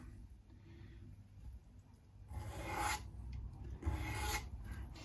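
Close, quiet rasping of a file rounding off the top edge of an adjustable Tusq nut on an Epiphone Les Paul guitar, a few short strokes growing louder toward the end, with no talking.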